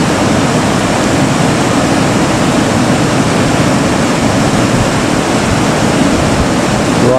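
Water gushes hard through the collapsed lower section of a leaking river dam embankment in Indonesia, a loud, continuous roaring rush close by with no break and no voices.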